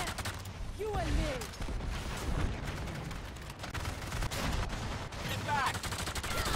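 Cannon fire in a video game booms in scattered bursts under a steady rumbling wash of battle noise, with a few whistling shell sounds and voices calling out in game.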